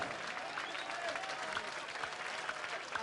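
A darts match crowd claps steadily in dense, even applause that lasts throughout, heard from within the hall at moderate loudness.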